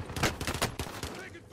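Rapid bursts of gunfire from Call of Duty: Black Ops Cold War Warzone, a fast string of loud close shots that thins out toward the end.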